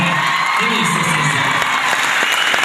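Concert audience clapping steadily, a dense wash of applause filling the hall, with a voice speaking over it throughout.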